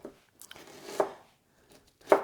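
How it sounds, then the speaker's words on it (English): A knife finely dicing onion on a cutting board, a few sparse, close chops with gaps between them and a firmer thud at the end. "So I need some finely diced onion for that as well."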